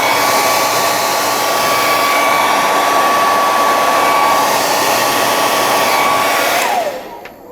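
Heat gun blowing hot air onto clamped plastic model kit parts of a 1/72 Sinanju, a loud steady roaring whoosh with a faint whine, running continuously before winding down abruptly near the end.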